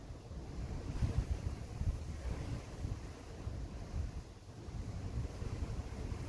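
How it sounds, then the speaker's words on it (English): Strong wind roars and buffets the microphone outdoors, a dense steady rumble with gusty surges and no voices. "But the wind's really kicking up."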